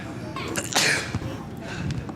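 One sharp sneeze breaks out close by from a live-stream commentator at a high school soccer game between Haddonfield and Sterling. Some low background noise and faint talk surround it.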